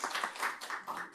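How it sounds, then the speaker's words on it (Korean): Brief, faint patter of hands clapping at the close of a university seminar on government budgeting, soft and somewhat distant with no voices over it. "다시 한번 정선문 교수님한테 좀 큰 박수 좀 부탁드립니다."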